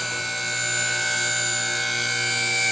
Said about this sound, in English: You'll notice this lift goes up a little faster than mine.